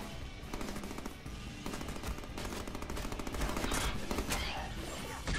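Enemy gunfire rattles in sustained automatic bursts aimed at the player in the Deadpool video game, steady and fairly loud throughout, with no speech on top.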